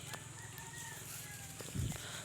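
Hens on a small farm cluck in the background, with faint intermittent calls over steady low ambient noise, plus one brief louder cluck near the end.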